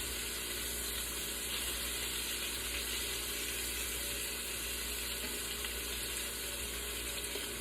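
Green tomato slices fry in shallow oil with a dense, steady sizzle and crackle, with faint clinks as they are turned in the pan.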